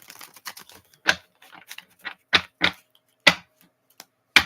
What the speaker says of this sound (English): I'm trying to shuffle these cards.